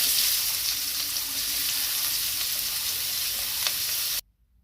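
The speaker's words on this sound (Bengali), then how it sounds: "এইবার ভাজার তেলে আমি দিয়ে দিলাম কালো জিরা।" Black cumin (nigella) seeds fry in hot oil for a taro stolon and shrimp curry. A steady, close, crackling sizzle runs alone for about four seconds, then stops abruptly into silence.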